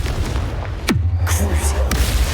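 A Confringo blast spell bursting in the video game Hogwarts Legacy, a sharp loud boom followed by a low rumbling tail, with a second softer impact shortly after.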